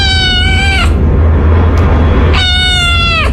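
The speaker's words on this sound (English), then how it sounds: "So we'll start off easy with the simple meow." Two drawn-out cat meows, each with a rising-falling tone, separated by a pause of steady low background hum.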